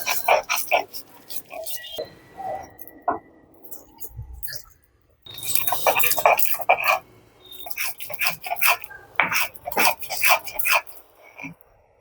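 Boiled green banana peel mashed by hand, likely on a grinding stone, giving wet, squelchy, rhythmic smacking and rubbing sounds in close, loud bursts with short pauses.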